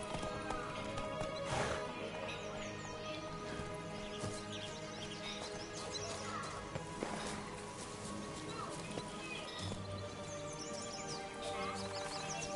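A horse gallops in The Witcher 3 video game, rhythmic hoofbeats pounding under a faint game soundscape with bird calls and a brief neigh, steady and quiet throughout.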